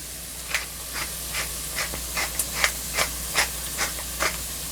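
A pepper mill set to a medium grind is cranked about ten times, each turn a short gritty rasp in a steady rhythm over a low background hum.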